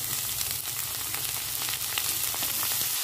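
Cabbage sizzling as it goes into a pan of lightly fried onions for Bengali bandhakopi bhaja, a steady dense frying hiss with faint clicks, close and continuous with no talking.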